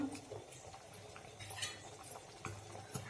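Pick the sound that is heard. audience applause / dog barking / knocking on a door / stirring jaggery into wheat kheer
stirring jaggery into wheat kheer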